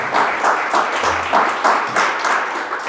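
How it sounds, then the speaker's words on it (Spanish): An audience at a talk by a magician bursts into strong, loud applause, many hands clapping in a thick, continuous wave that swells in rhythmic pulses. "pido un fortísimo aplauso para él"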